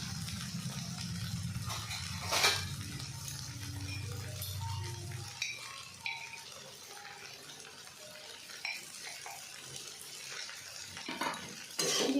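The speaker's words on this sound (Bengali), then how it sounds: "আবার ভালো করে মিশিয়ে নেবো" A spoon stirs chira pulao (flattened rice with ghee and sugar) in a metal pan, producing quiet scraping and light clinks against the pan, with a low hum early on and sporadic taps throughout.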